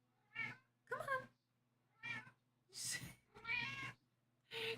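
A cat meows repeatedly, six distinct close-up cries in an irregular sequence, some short and some drawn out and whiny, with a steady low electrical hum running underneath.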